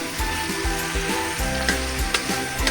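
Masala spice paste frying in a pan for spicy egg biryani, a steady loud sizzle with stirring scrapes and a few pops, close up and with no talking.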